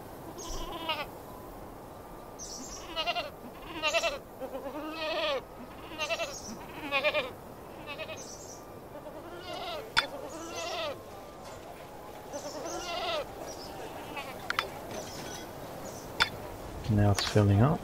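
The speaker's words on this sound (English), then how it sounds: "There are the goats." Goats in the Anno 1404 video game, repeated bleats at irregular intervals with a faint insect-like buzz beneath, moderately close, and someone talking over parts of it.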